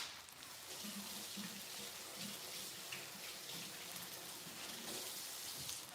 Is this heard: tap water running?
yes